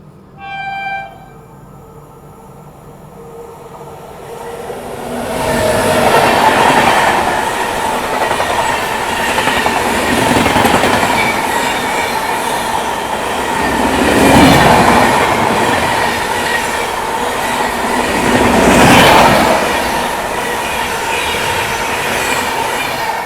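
Chandigarh–Ajmer Vande Bharat Express rushing past on the adjacent line as it overtakes, a loud sustained roar of wheels and rail noise building after a quiet start, with clattering surges around the passing carriages and no talk.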